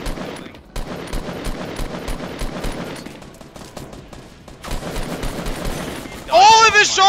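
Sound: gunshots in Fortnite Battle Royale video game

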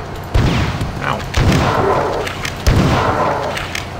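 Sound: shotgun firing in video game Marathon 2 Durandal

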